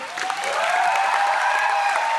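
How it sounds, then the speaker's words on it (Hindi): Steady, loud applause from an audience at a movie promotion event in Ratnawali, mixed with crowd noise, a faint whistle-like tone and light cheering. "मैं उनके लिए जोरदार तालियां।"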